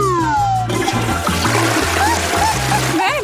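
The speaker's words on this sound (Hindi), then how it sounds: "तुमने इसे फ्लश क्यों किया?" A toilet flushes with a rushing, splashing gush of water that drains away, heard under loud tonal music-like sounds and background voices.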